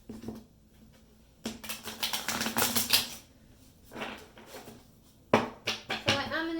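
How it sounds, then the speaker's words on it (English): Tarot cards are shuffled in several quick, loud riffling bursts separated by pauses, close up and clattering, with brief quiet gaps between shuffles. "when I shuffle cards they get very loud"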